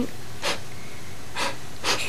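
A voice playfully imitates a sneeze while telling a children's story, giving three short breathy bursts spaced about a second apart over a quiet background.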